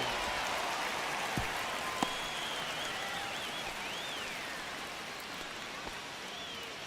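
Stadium crowd in the baseball game MLB The Show 25 during a tense ninth inning, a steady broad murmur and rush of spectators with occasional sharp knocks, heard alone at moderate distance.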